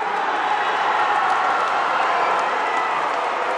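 A high school basketball crowd in a gym roars in a dense, sustained wash of cheering and noise, loud and unbroken throughout.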